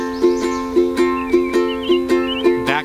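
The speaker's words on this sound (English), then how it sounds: "Now swing shuffle." Solo ukulele swing shuffle strum, a sustained chord struck in an uneven long-short rhythm of about a dozen crisp strokes, played close and clear.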